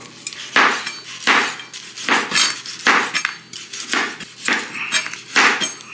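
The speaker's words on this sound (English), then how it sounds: "It's frozen sausages, so slightly hard to slice it." A knife chops through frozen sausages on a board in about eight hard, evenly spaced cuts, each a sharp knock with a brief scraping tail, loud and close with no talking.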